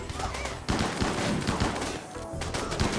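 Rapid bursts of gunfire from colonists fighting raiders in RimWorld, dense crackling volleys and single shots stacking over each other, loud and continuous with occasional sharper cracks.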